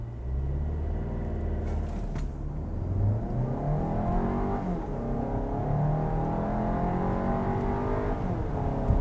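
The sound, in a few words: 2022 VW Tiguan R-Line 2-liter turbo launch acceleration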